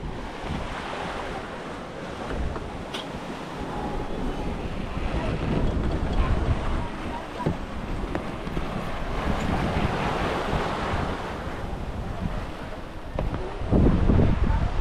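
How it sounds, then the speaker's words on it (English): Strong sea wind of 15 to 17 knots buffets a sailboat crossing the Atlantic under sail, a constant roaring rush of wind and breaking waves that swells louder at times, with no talking. "the wind picked up. I've got 15, 16, 17 knots at the moment"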